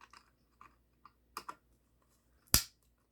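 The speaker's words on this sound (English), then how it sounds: "You're gonna hear that clicking sound when you're first taking screws out because it's so old." An old Gemmy Frankie the Fish animatronic toy makes a few sharp, dry clicks as its screws are backed out, faint isolated ticks, then one louder crisp snap near the end, in a quiet room.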